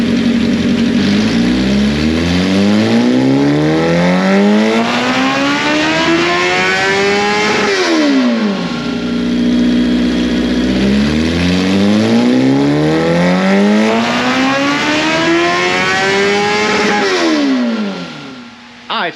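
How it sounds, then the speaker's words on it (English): A 2005 first-generation Kawasaki ZX10R sportbike screams on a dyno through two long full-throttle runs, its pitch climbing steadily through the gears, then dropping before rising again. Loud and close, ending abruptly as the engine cuts. "So we're going to dyno tune this thing right here, see how much power we can get out of it"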